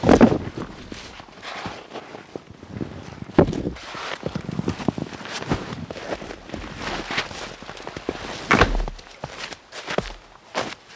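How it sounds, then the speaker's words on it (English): Rocks being picked up and stacked into a stone wall on a windy frozen island shore in winter, scattered knocks and scrapes of stone on stone with light wind noise, no talking. "I'm starting by picking up rocks and creating a stone wall as the foundation for my survival hut"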